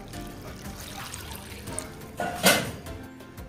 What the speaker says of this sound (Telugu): కోసిన కొబ్బరి ముక్కల్ని వాష్ చేసుకోండి.